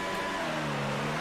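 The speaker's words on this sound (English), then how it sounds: "clutch in, a little bit of revs" Formula 1 race car engine held on light revs with the clutch in on the grid in F1 2018, a steady droning hum with a constant pitched whine, fairly faint and brief.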